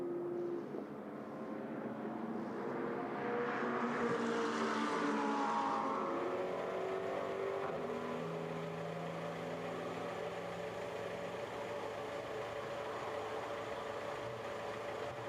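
GT race cars in SRO GT Cup qualifying at the Zhuhai circuit come out of a corner toward the final turn. One engine roar swells as the car passes, then fades into a steady, distant drone.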